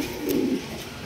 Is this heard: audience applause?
no